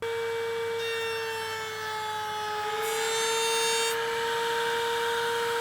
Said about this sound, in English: I grabbed my pieces of maple and walnut and started routing